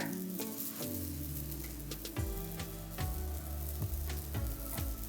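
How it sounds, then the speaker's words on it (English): Oat flour pancake batter sizzles steadily on a hot griddle, a constant close-up frying hiss that continues with no talking and with some low tonal sounds underneath. "we're just going to add about a third a cup of pancake batter to our griddle per pancake and let them cook"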